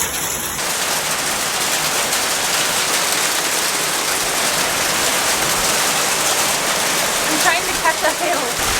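Hail falling outside, a dense continuous hiss and patter that stays steady throughout, with a few sharper hits near the end.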